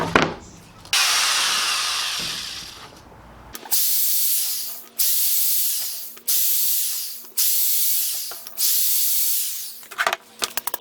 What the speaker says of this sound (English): now I'm gonna drill my pilot holes there.